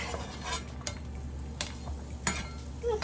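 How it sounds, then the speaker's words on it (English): Garlic sizzling in olive oil in a pan, with metal utensils clinking and scraping against it in short bursts; no voices. "It's gonna sizzle real quick."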